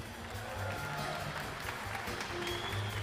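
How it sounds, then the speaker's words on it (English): Crowd applause at a US Air Force Rhythm in Blue jazz ensemble concert in a large hall, a steady dense wash of clapping lasting throughout, with some faint voices mixed in. "Give yourselves a round of applause."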